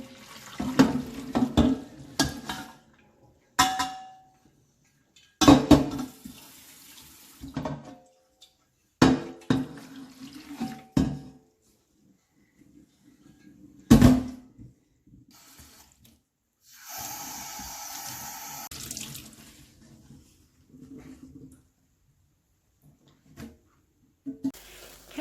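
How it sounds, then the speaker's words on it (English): Running tap water splashes in a sink while dyed linen fabric is rinsed, coming in several separate bursts with quiet pauses and the odd clatter in between. "rinse the linen until the water runs clear"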